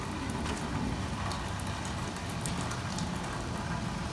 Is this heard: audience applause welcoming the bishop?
no